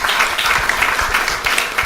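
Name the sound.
audience applause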